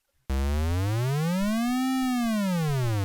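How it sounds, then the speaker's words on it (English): Cakewalk Zeta synthesizer patch in Sonar playing a buzzy, harmonic-rich tone that starts abruptly, glides up and back down by one octave, and holds steady and loud for about three seconds, alone with no voices. "So you can hear the beginning pitch and the end pitch that they're actually 1 octave."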